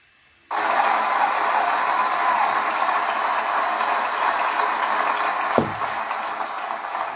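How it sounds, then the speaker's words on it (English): Audience applause at a poetry livestream bursts in suddenly and holds as a dense, loud, even wash of clapping, easing slightly toward the end. "We needed the applause for that part"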